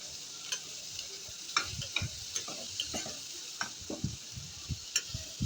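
Ridge gourd dal for pappu birakaya frying in a pan, with a steady soft sizzle under irregular light scraping and clinking stir strokes close by; no voices.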